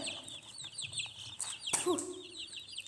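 Young chicks peep and chirp on grass in short, high, repeated calls. A sharper burst of bird noise rises near the middle, and a faint voice can be heard in the background.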